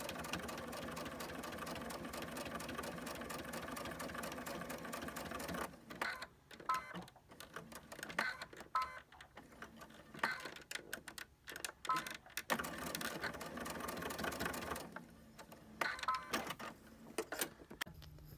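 A sewing machine stitches a seam on a fitted fabric mask, backstitching at the end, running in a steady mechanical whir with a few short pauses and restarts, close up and alone.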